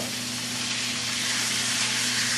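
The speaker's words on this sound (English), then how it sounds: "sear that flat side over here on the dry." Beef sizzling hard on a dry, hot pan, a loud, steady, close hiss of searing meat that holds unbroken throughout, with no talking.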